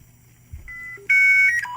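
Dial-up internet modem connecting: steady electronic tones give way to a loud burst of layered, screeching handshake tones that shift pitch near the end, heard alone with no voices.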